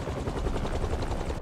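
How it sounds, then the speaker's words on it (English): Helicopter blades thud in a fast, steady pulsing chop in Marvel's Spider-Man 2, loud and close, holding an even rhythm until an abrupt cut at the end. "a helicopter's blades."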